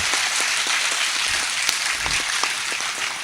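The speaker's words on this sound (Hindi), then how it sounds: "इतनी तालियों से नहीं होगी साहब" Dense, steady applause from an audience at a Hindi poetry recital, a continuous wash of many hands clapping at an even loudness throughout.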